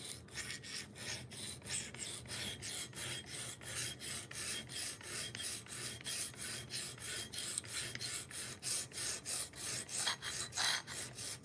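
A knife blade is drawn over a diamond sharpening stone in quick, regular raspy strokes, about three per second, close and crisp, with no talking.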